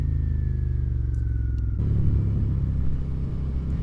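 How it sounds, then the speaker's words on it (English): A loud, low motorcycle exhaust drone from a 2017 Suzuki SV650 at low RPM rumbles continuously up close, growing rougher and heavier partway through as the engine note shifts. "Hopefully you guys can hear me over the exhaust. But it is pretty loud, like it drones a lot"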